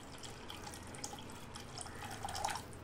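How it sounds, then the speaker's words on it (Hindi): A glass of water is poured into fried masala in a pan for a village-style small fish curry, giving a soft, steady splashing and trickling with no voices, fairly quiet throughout. "अब हम इसमें एक ग्लास पानी डालेंगे"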